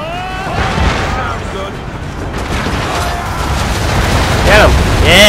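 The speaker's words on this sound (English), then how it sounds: "Mortars! Oh, sounds good. Fire!" Mortar cannon fire and rumbling explosions fill a dense, loud Assassin's Creed 3 battle scene, with booms building under shouting voices and a constant roar of combat noise.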